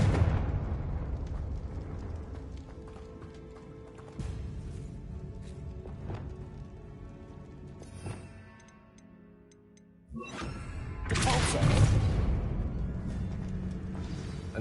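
Explosive Confringo spell blasts in Hogwarts Legacy on PlayStation 5, a few bursts over game ambience, with one large loud blast near the end following a brief lull.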